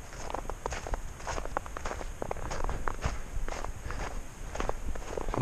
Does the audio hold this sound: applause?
no